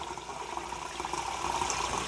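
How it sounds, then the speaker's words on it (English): Water pours and trickles steadily at close range into a jar as it is filtered in a kitchen, a soft continuous liquid stream with no talking. "I need to filter water for my jars."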